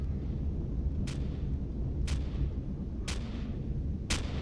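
Automated sentry gun in a video game firing four sharp, evenly spaced shots about one second apart over a constant low rumbling game background.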